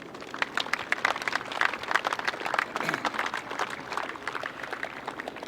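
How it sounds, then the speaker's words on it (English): A crowd at a men's hockey final claps for sponsors, scattered, moderately loud applause with individual hand claps standing out, steady for several seconds. "A big round of applause for those, please."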